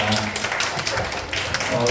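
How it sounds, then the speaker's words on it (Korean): A church congregation at a Sunday youth worship service breaks into applause, a dense wash of clapping filling the room, with a voice faintly under it. "박수로 예배 마무리하겠습니다"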